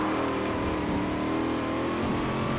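A 2018 Chevrolet Camaro ZL1 1LE driven on dirt in Forza Horizon 4, its engine droning loud and steady at high revs with a brief shift-like dip near the end, no talk.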